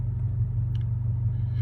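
Inside a Subaru BRZ/GR86 with a 6-speed manual gearbox, cruising on the freeway: a loud, steady low cabin drone and road rumble that never lets up.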